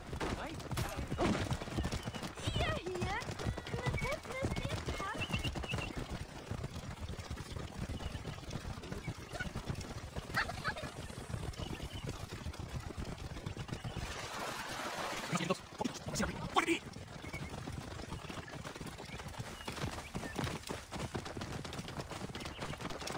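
Horses galloping in Assassin's Creed Origins, a steady rapid clatter of hooves running throughout, loud and continuous, with voices talking over it.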